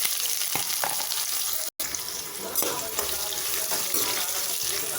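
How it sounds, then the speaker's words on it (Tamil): Chopped onion sizzles in hot oil with fried spices as it is stirred in a pan for mushroom salna, a loud continuous frying hiss with light scraping, heard close. "வெங்காயத்தை நல்லா வதக்கிக்கலாம்."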